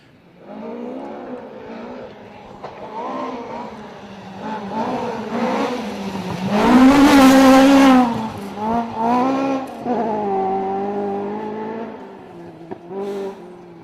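A rally car on a special stage at Elibank passes the spectator point, its engine rising from a distant approach to a loud, close roar around the middle with gear changes, then fading away, heard alone without talk.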